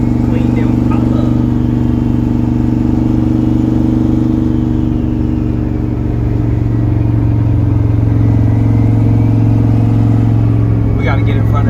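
A built race car's engine runs steadily and loudly from inside the cabin, holding a strong low drone with mild revving throughout.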